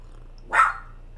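A dog gives a single short, sharp bark indoors, loud and close against a quiet background hum.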